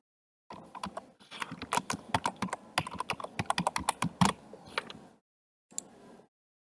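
Someone types a username and password on a computer keyboard: close, quick runs of crisp key clicks in uneven bursts, a short pause, then a final few keystrokes, with no talking.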